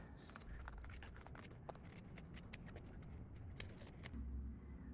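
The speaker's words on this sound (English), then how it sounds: "just trimming all the way around the edges" Scissors trimming the edges of a cardboard junk journal cover: quiet, close snipping and scraping cuts in a fairly steady series, with no voice over them.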